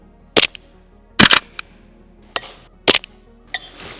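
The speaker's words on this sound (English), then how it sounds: "I'm all about testing airsoft guns in an unrealistic fashion, like standing very, very far away from a plate of metal like this big." Distant airsoft gun shots fired outdoors at a far-off metal plate target, five or six sharp separate pops spaced about a second apart, some followed by faint after-sounds, with no talking.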